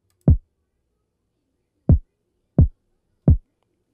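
Five dry, punchy kick drum hits without parallel compression, in a loose rhythm, low and thumping with quick decay and silence between them.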